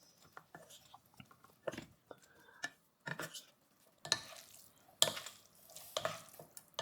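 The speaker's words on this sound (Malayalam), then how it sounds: "ഇനി ഇതെല്ലാം കൂടി നന്നായി ഒന്ന് മിക്സ് ചെയ്തെടുക്കുക." Chilli sauce and vinegar being stirred together for egg noodles, giving scattered soft scraping, clinking and wet stirring sounds in short irregular bursts, close and fairly quiet with no talking.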